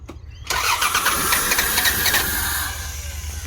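A car engine cranking and trying to start, a loud, close churning whir with a pulsing rhythm that runs for a couple of seconds and then eases back a little.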